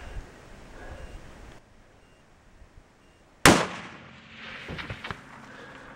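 A single sharp rifle shot cracks out loud and close at a mule deer during a hunt, following quieter rustling, with the report echoing and rolling off afterward.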